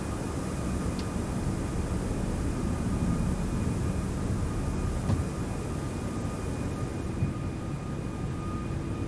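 Airbus A340 engines in the X-Plane 12 flight simulator, a steady broadband roar held evenly through the whole stretch, with faint tonal hums above and no voices.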